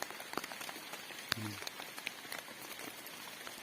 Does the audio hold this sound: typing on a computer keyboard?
no